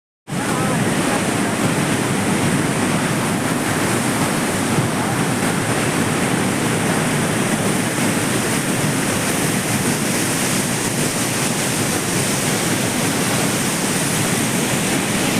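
Water gushes loudly and steadily from a pump outlet near oil palm farms in Siddipet district, a continuous roaring rush with no pauses or voices.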